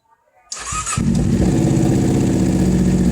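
A 2011 Kawasaki Ninja 250R engine cranks on its electric starter and catches after a brief quiet moment, then settles into a loud, steady idle close by.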